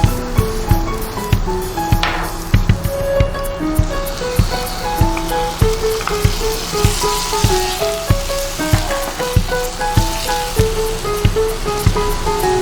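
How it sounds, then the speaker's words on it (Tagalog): Onions and tomatoes fry in hot oil in a pan, a steady close crackling sizzle running throughout, marked by regular soft clicks and taps, with no voices. "Add some oil to a pan, then add the onions and tomatoes so that the aromas release."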